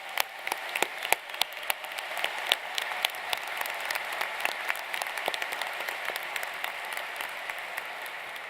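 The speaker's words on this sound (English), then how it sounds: "Let's give a round of applause." At a university business school commencement, a large audience applauds the faculty with dense, steady clapping filling a big hall, sustained throughout with scattered louder individual claps.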